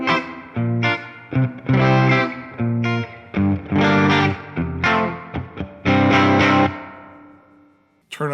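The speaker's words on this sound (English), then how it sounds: "we're going to test the 63 Spring Reverb. Now this is what it sounds like at default settings." An electric guitar plays phrases of chords and notes through the '63 Spring Reverb on a Fender Tone Master Pro at default settings, loud and close, with a short reverb tail trailing off as each phrase ends.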